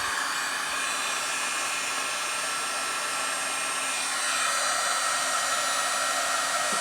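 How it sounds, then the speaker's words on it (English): A heat gun blowing for dry embossing in a scrapbooking setup, a loud, steady close-up whooshing roar that holds unbroken throughout with no talk over it. "This is my heat gun."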